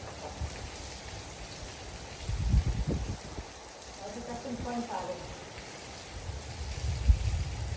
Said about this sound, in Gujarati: લાઈવ પાટણમાં વરસાદ પડી રહ્યો છે